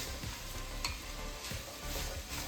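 Beef short ribs sear in a hot pan before braising, a steady close sizzle and crackle of frying meat with occasional stirring scrapes, no talking.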